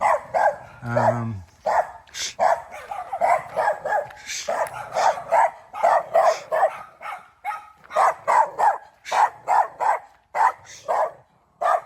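A dog barks repeatedly and loudly nearby in Barotac Viejo, Iloilo, Philippines, a steady run of sharp barks lasting the whole stretch with only short gaps.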